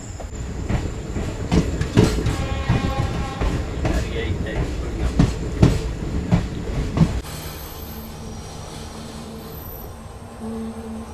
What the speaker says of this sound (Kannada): ಹೊರಟ್ಬಿಟ್ಟಿದ್ದೀವಿ ಅಮೃತಪುರ ರೈಲ್ವೆ ಸ್ಟೇಷನಿಂದ